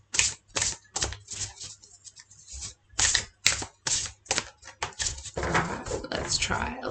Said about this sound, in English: What about a vertical shuffle?